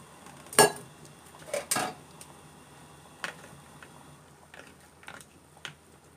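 A metal lid clinks down onto a pot of tofu soup, giving a few sharp clattering knocks close by, followed by lighter scattered taps and clinks in a quiet kitchen.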